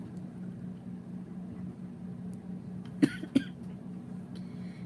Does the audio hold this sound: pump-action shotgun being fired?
no